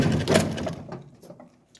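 Wooden drawers of an old chest being handled, a brief scraping slide with knocks that fades into faint rustling, close by and without speech.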